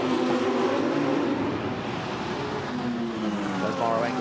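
GT race cars at the 24 Hours of Spa, with engine drone and a rising pitch as cars pass through traffic, heard under steady commentary.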